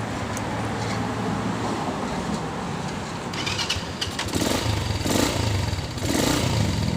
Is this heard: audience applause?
no